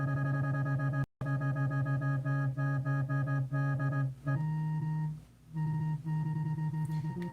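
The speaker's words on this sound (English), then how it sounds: "Here's what it sounds like if I were to add a filter cutoff in the form of an LFO." A sustained synthesizer tone whose filter cutoff is swept by an LFO, so the brightness pulses in and out in a steady rhythm. The tone breaks off for a moment, then shifts pitch and carries on.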